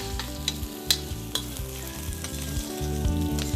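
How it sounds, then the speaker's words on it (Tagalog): Ginger sizzles and fries steadily in a pan, with sharp clinks and scrapes of a utensil stirring at irregular intervals, close and fairly loud. "Igisa rin natin ang ating ginger"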